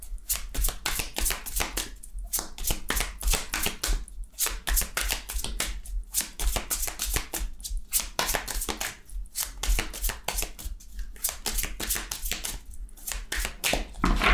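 A tarot deck, the Tarot des Sorcières, shuffled and cut by hand in long, steady runs of rapid card flutters and taps, close and continuous with brief pauses between bursts.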